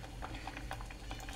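Spinach simmering in a pot of salted water, a brief close bubbling and gentle popping with no voices.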